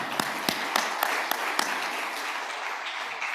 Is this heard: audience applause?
yes